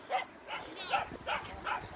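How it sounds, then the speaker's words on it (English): A dog barks repeatedly on St. Catherine's Hill, with about five loud, evenly spaced barks close by over a faint outdoor background. "that bloody dog needs to shut up"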